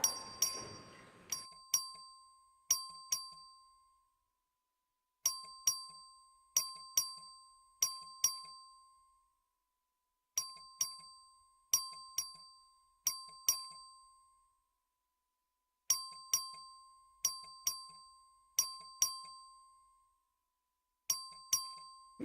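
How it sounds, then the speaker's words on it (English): A voting bell in the Texas House of Representatives chamber in Austin rings out in repeated clusters of bright, clear dings, each fading quickly, with short pauses between groups and no talking. "The clerk will ring the bell."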